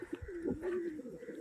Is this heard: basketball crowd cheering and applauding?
no